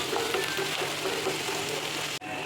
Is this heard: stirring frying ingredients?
yes